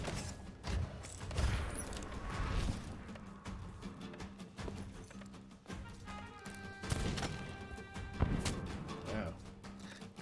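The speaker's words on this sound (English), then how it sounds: "Ghost bullets." Ghost ship cannons or bullets firing in a pirate sea-sailing video game, with bursts of impacts and crashes over a busy game mix, while people talk underneath.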